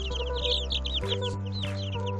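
Ten-day-old chicks cheep in rapid, overlapping high peeps as they eat, close and lively, with a few louder calls standing out over a constant low background hum.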